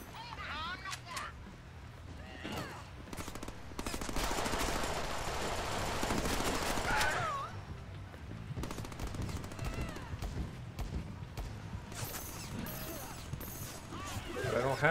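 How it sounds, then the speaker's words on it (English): Explosions and gunfire burst in the Deadpool video game, dense and repeated crashes and blasts layered over game effects, with voices talking over the action. "See? Explosions. Just explosions."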